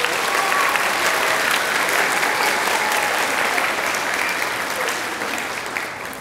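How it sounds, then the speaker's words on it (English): Loud, dense applause from a school concert audience honouring a middle school music student, steady clapping throughout that tapers slightly at the end. "Can we go ahead and give her a round of applause?"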